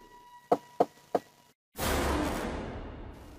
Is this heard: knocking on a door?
yes